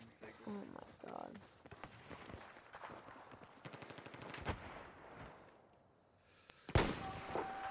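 Gunfire in the video game Battlefield 4: scattered shots and a short rapid burst, then a sharp loud blast near the end, over game noise and quiet voices.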